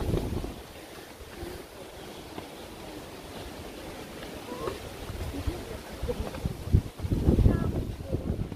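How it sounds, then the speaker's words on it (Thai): Strong wind roars steadily across the microphone at Khao Khitchakut in Chanthaburi, a continuous rushing buffet that swells louder toward the end, with low rumbling gusts. "เสียงลมครับลมพัดแรง"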